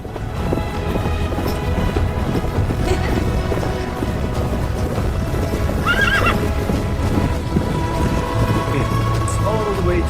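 Horses near a river in Yakutsk, Siberia, whinny and neigh amid steady clip-clopping hooves, over a constant wash of outdoor noise like rain or running water.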